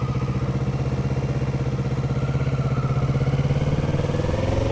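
A motorcycle on a licence-test training course, its engine puttering steadily at low speed in a close, even mechanical thrum that rises slightly toward the end, with no talking.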